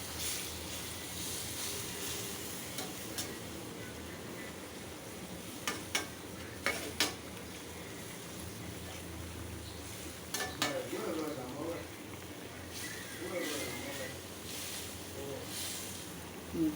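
Fish and mixed vegetables cooking together in a pan for a fish curry, with a steady low sizzle, scattered clinks and scraping stirs throughout.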